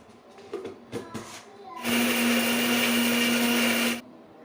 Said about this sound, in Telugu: మిక్సీలో సరిపడేంత ఎండుమిరపకాయలు, కొంచెం అయితే ఉప్పు వేసుకొని గ్రైండ్ చేసుకుంటున్నాను